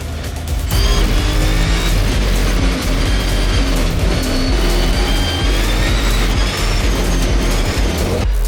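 A new rallycross race car starts off, loud dense engine roar that kicks in abruptly after a brief pause and holds steady close by, with no talk over it.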